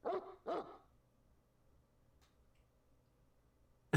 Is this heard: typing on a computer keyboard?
no